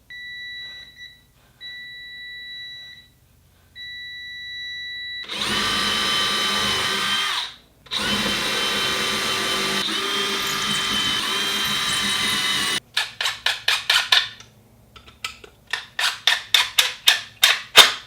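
A power drill fitted with a 7/64 bit bores a screw hole for a 3-inch number 8 screw while mounting a bike rack, running in two long steady bursts, then a series of short quick pulses, with faint electronic beeps at the start.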